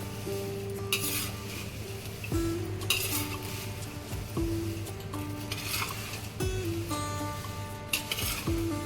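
Thin poha chivda being stirred and mixed in a pan for a Diwali snack, a steady near scraping and clinking of the spoon against the metal over a soft continuous sizzle, with sharper clinks every second or so and no talking.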